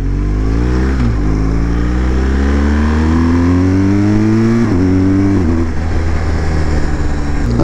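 A motorcycle fitted with a BoosterPlug accelerates hard in dynamic mode, its engine note climbing loud and close through several gears, with clear dips at each shift.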